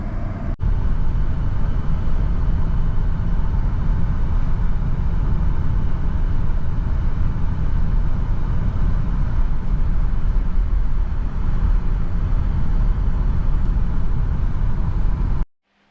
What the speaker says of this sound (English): Anyway, let's go for a test drive.